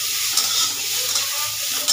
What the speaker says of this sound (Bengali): টমেটো কুচি দিয়ে মশলাটাকে পুরো ভেজে নেবো।